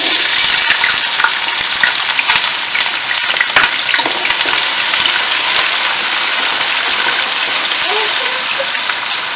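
Onions dropped into hot oil and frying for kari pakora, a loud, dense, steady sizzle with occasional crackles close by, no voices over it.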